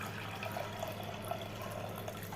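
Water, about 200 ml, poured into a pressure cooker holding dal for a dal palak (spinach dal) recipe, giving a faint, steady splashing hiss with no talking.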